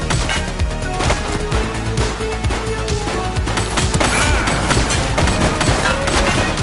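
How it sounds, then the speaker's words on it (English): Dense gunfire in a police video game, rapid overlapping shots and crashing impacts filling the whole stretch at steady high loudness. "Shooting!"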